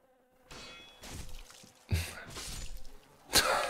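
Insects buzz in Dark Souls: Remastered, a droning whine that swells and fades in repeated waves, punctuated by sharp metallic clangs, with a brief spoken exclamation in between.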